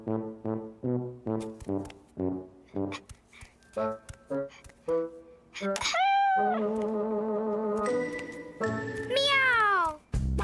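A cartoon cat in a children's show meows over and over: a run of short, close, loud mews, then a few longer, drawn-out meows that slide in pitch, with no talking.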